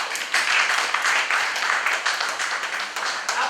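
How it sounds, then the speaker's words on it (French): An audience at an academic conference applauds the candidates, a dense, steady wash of many hands clapping that fills the whole moment without pause. "Je vous invite à applaudir chaleureusement nos différents candidats."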